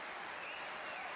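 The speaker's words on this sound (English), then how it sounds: "The crowd certainly were thrilled by that one, and even Si Jiahui is applauding it." Snooker crowd at a tournament final applauding a difficult pot, a brief burst of steady, dense clapping heard alone.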